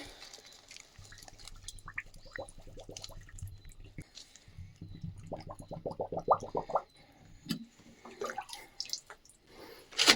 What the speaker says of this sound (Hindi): तो चलिए पानी भर लिया है, ठीक है पानी।